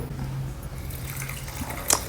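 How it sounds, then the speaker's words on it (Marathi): Water added to basmati rice in a bowl for washing, heard as faint, close trickling and dripping over a low hum, with a brief brighter splash near the end. "पाणी घालून दोनदा आपण स्वच्छ धुवून घेऊया आणि त्याच्यामध्ये पाणी घालू थोडं"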